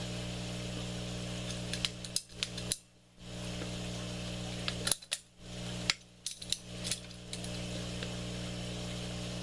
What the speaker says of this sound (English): Instead of playing with the saw, just nip this with the tubing cutter.